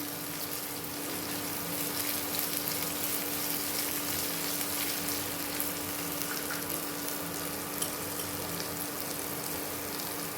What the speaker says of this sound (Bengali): পোস্তটা একটু নেড়ে নিই।